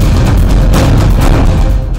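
An explosion in Beirut, Lebanon: a loud, sustained blast-like roar fills the whole clip, with dense low rumble and broadband crashing, no speech.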